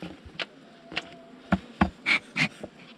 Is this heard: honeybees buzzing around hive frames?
yes